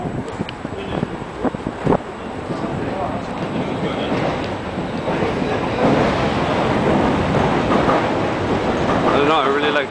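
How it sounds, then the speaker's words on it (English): Train rolling onto a steel girder bridge, a loud, building rumble and rattle of wheels on the girders with clicks early on, heard close by amid wind noise and occasional talk. "I want to get a shot of the train coming in"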